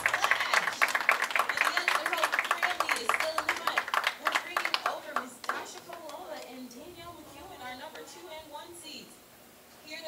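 A crowd at a professional women's bowling stepladder final claps and cheers after a strike, a brisk burst of applause that thins out, with a commentator talking over it.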